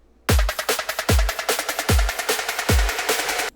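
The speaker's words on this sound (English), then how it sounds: "just gonna show you how it sounds with the reverb automation" A looping electronic beat with a booming kick on each bar and rapid hats, building steadily and washed in growing reverb, no voices.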